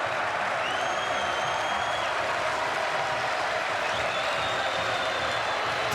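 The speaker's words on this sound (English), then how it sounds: "Crowd rising once more." Home crowd at a Texas Tech at Providence college basketball game roars steadily, a broad sustained wash of cheering and applause throughout, dense and loud with no clear pauses.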